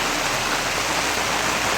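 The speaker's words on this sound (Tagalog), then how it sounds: "ito po ang kaganapan ng bagyo sa amin dito sa Camarines Norte. Lakas ng ulan" Heavy typhoon rain pours down in Camarines Norte during Typhoon Kristine, a dense, unbroken roar of water close by and loud throughout, with no voices.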